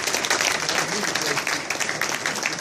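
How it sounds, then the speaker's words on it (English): An audience applauds at a community meeting: dense, continuous clapping from a crowd, fairly loud and steady throughout, with no talk over it. "Brother Bell, give him a round of applause."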